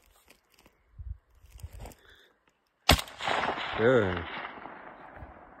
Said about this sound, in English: Let's see, I'm gonna shoot even farther.